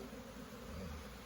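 Honey bees packed into a hive, a dense, steady, low buzzing swarm heard close and fairly quiet, continuous with no pauses.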